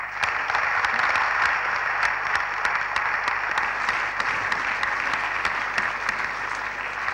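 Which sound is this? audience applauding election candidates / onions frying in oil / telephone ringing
audience applauding election candidates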